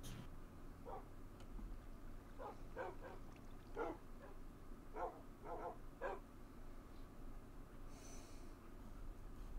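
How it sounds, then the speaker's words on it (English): Dogs barking in Minecraft, a scattered series of faint, short yips and barks over a quiet background hum. "There's so many dogs."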